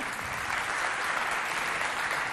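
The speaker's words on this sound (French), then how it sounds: "applaudissez pour le lycée féminin" A crowd at a Chadian school show applauds the girls' high school, a dense, even roar of clapping that holds steady and fills the hall.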